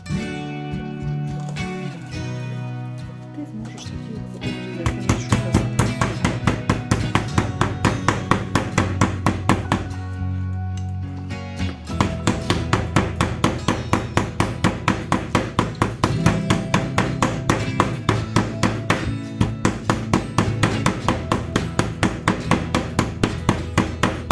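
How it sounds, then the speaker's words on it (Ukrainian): Steady, rhythmic thuds of a meat mallet pounding pieces of meat thin for chops on a board, repeated blows continuing loudly with a brief pause partway through. "Відбиваємо кожен шматочок"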